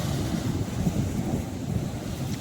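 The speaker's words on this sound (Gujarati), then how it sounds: "આવા બધા મોજા છે અને આ મોજા દરિયાની ભરતી આવે ત્યાં આવતા હોય છે." Sea waves rolling in at high tide along a rocky shore, a continuous low roar of surf and churning water with steady wind buffeting the microphone throughout, no voices.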